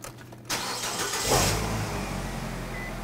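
A car engine cranks and fires up after a catalytic converter repair, catching about half a second in and settling into a steady idle with a brief rev, heard close and alone with no talk.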